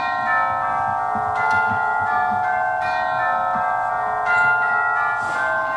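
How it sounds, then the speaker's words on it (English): Merry church bells ring out on Christmas Day in a school stage production of A Christmas Carol, a steady sustained peal of overlapping tones with occasional stronger strikes, heard alone at moderate volume. "Merry bells."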